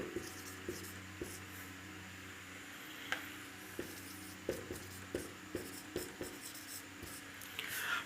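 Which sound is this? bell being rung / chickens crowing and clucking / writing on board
writing on board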